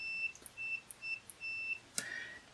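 Multimeter set to continuity mode, beeping in short high-pitched chirps during drone wiring checks, several brief quiet tones at irregular intervals with no talking.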